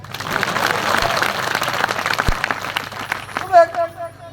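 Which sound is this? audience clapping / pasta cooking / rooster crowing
audience clapping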